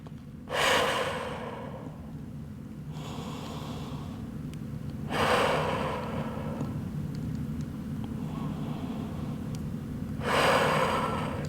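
Deep yoga breathing in a resting forward fold: three long, loud inhales spaced about five seconds apart, each followed by a quieter, slow exhale, close to the microphone with no talk.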